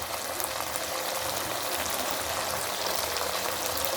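Prawns frying in oil in a pan for gongura (roselle leaf) prawn curry, seasoned with chili powder and salt: a dense, steady, close sizzle and bubbling that holds evenly throughout with no voices.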